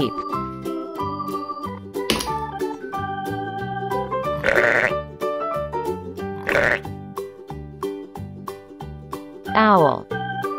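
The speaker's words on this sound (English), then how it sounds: "Sheep." A sheep bleats a few times, each call loud and wavering, over continuous music in the background.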